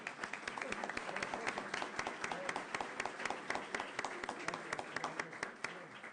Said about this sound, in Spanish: un aplauso para los 3 participantes